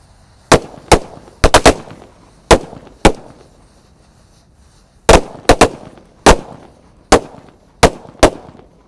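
Sharp, loud disco firecracker bangs burst inside bamboo in uneven clusters, some rapid doubles and triples, each echoing with a hollow crack, separated by brief quiet gaps.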